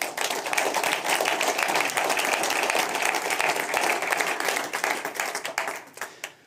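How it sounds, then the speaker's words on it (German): Dense, steady applause from an audience at a business event, loud and continuous before thinning out and fading near the end. "hier natürlich ein herzliches Willkommen mit einem Applaus"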